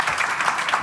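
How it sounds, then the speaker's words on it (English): An audience claps for a panel of six speakers at an energy conference session, a short burst of scattered, moderately loud applause. "big applause, please"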